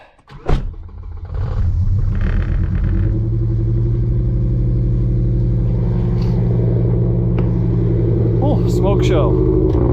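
BMW E60 M5 engine cranking over and catching after the fuel pump is engaged, settling into a loud, steady rough idle with rumble; people talk over it.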